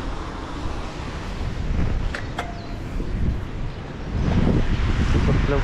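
Strong wind gusts buffet the microphone outdoors, strong enough to break an umbrella, with a loud rushing roar that swells in waves and brief faint clinks in between.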